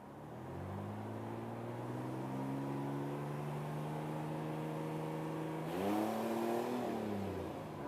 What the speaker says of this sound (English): I'm gonna go ahead and rev this thing up, see what happens.